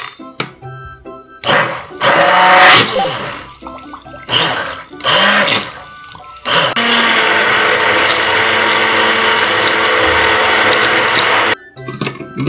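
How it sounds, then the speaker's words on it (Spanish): Handheld electric mixer whirring through a water and sodium alginate mixture, loud and close, starting in short bursts and then running in one long steady stretch before cutting off. "Esta mezcla la tendremos que revolver con una batidora manual."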